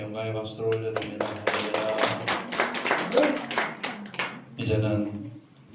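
A congregation at a Korean Sunday morning church service claps together in a steady, fairly loud burst of applause, sung or spoken voices carrying over and around the clapping.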